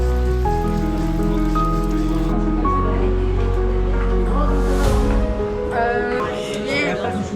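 Rain patters steadily onto surfaces outdoors on a June morning as competitors at a riverside sporting event have their equipment checked, with music playing over the continuous soft hiss of the rain.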